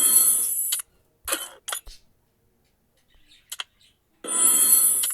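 A ringing in-game call or invite tone from a mobile shooter game plays in two loud bursts, one at the start and one at the end, with short clinking blips between them.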